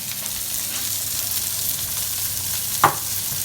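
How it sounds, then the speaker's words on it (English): Capers sizzle in a frying pan as they are stirred, a constant close hiss of frying with a single brief scrape or clack near the end, no voices. "Give that a good stir"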